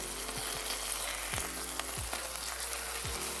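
Chicken breasts crackle and hiss in a hot pan while being turned with tongs, a steady close sizzle punctuated by several soft flipping thumps.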